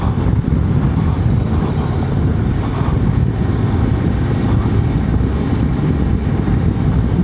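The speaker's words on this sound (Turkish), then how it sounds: "Rüzgar alıyorum şu anda." Heavy, constant wind buffeting roars low and loud across the whole stretch while riding a Honda Forza 750 motorcycle, with no speech, like rushing air at speed.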